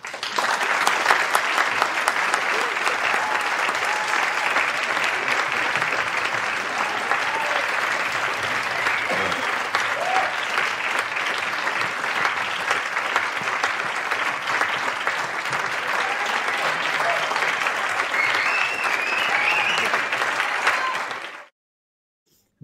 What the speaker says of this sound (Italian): Noi abbiamo degli applausi,